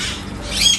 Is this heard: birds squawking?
yes